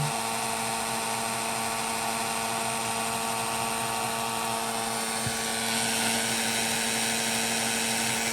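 A heat tool blows a steady, loud, high-pitched whir while melting clear embossing powder on a hand-stamped card, constant throughout with no voices.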